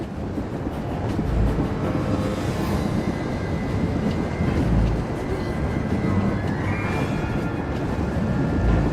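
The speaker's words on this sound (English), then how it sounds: "Stop the train, Theron." A train runs on rails in a tense collision scene, a loud, dense, continuous rumble that holds steady for the whole stretch with no one talking.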